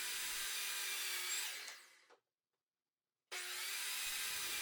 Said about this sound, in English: I just brought my miter saw out here, and I was a little too lazy to attach the vacuum, so you can see all the dust that it kicks up.